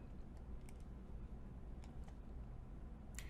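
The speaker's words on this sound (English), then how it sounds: "I'm going to type in Naha" Soft, quiet clicks of typing on a computer keyboard come in a few scattered bursts over a low steady background hum.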